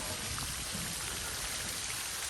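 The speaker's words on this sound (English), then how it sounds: "It's starting to rain again." Rain falls steadily over a riverbank work site, a dense, even hiss of drops with no distinct rhythm, faint to moderate and close, with no talking.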